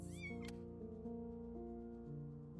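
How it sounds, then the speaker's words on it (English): A stray cat in an alley in the game Before Your Eyes gives a short rising meow at the start, clear and close, over sustained tonal game music. "You just happened to find a stray cat in the alley."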